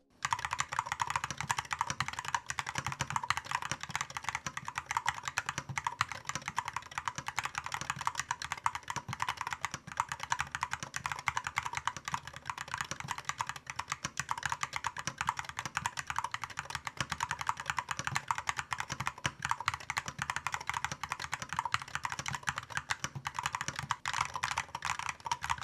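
Fast, continuous typing on a Dry Studio Ice Ring 63 gaming keyboard with magnetic switches and rapid trigger, giving light, crisp clacks in a dense, even stream, close and fairly quiet, with no talking.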